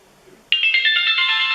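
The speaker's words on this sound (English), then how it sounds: "So you can see a message just come through" Electronic text message alert tone from a GSM mobile deskphone, a bright multi-note melodic ringtone that starts abruptly and sounds loud and clear without any talking.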